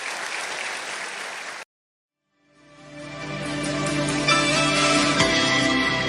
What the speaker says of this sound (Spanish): Démosle un fuerte aplauso a Dios